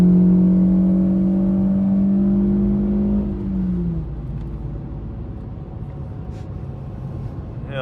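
A remapped car accelerates hard at full throttle, its engine droning loud and steady before a gear change drops the tone, then carries on as a lower rumble with road noise.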